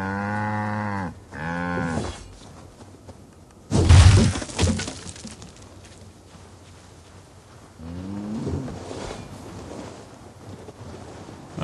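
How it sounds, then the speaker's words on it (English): A cow in the video game Assassin's Creed Valhalla lets out two long, loud moos, followed by a sudden crash of breaking wood and then a third, quieter moo. "So we gotta free the cow."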